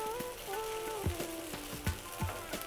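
Whole wheat dosa sizzles on a hot oiled pan after flipping, a close, steady crackling fry with soft taps and scrapes from a utensil pressing the edges.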